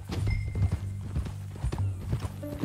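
Horse hooves clip-clop at a walking pace in Red Dead Redemption 2, a soft uneven series of thuds under low background rumble, fairly quiet and brief.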